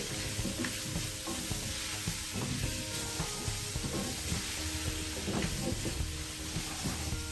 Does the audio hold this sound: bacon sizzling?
yes